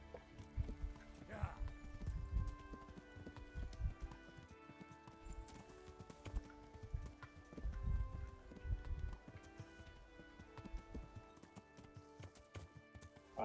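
Horse hooves clip-clop steadily in the video game Kingdom Come: Deliverance, a close rhythmic trotting with occasional snorts, layered over sustained in-game music.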